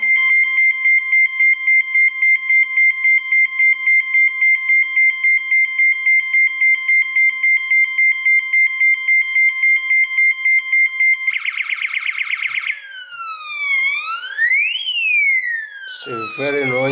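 A homemade RF alarm sounds loud and alone: a long run of rapid, evenly pulsed electronic beeps, then a harsh burst and a few swooping, rising-and-falling siren wails before it cuts off.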